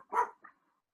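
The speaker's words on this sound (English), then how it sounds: "that dog barking made my dogs to bark" A dog gives one short, moderately loud bark and then a fainter second yip, heard alone against silence.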